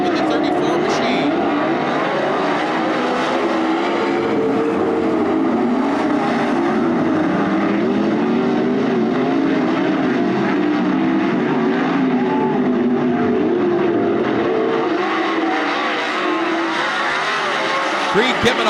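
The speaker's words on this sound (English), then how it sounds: "Here comes Trey Jacobs on the bottom of the racetrack in that 9 car." Race cars roar around the track at Attica Raceway Park in a loud, continuous engine din that rises and falls as they pass, with a race announcer talking over it throughout.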